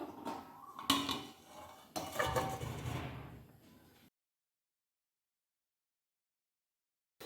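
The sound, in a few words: covering the pan of fish with a lid while cooking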